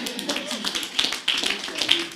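A congregation at a Sunday church service claps hands in a steady patter of close, crisp claps running under a preacher's voice.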